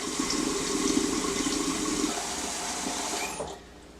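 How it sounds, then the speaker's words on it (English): Hot water gushes steadily from a faucet into a jar, a loud continuous rush that cuts off abruptly near the end. "I'm going to fill it all the way up with piping hot water from my faucet here."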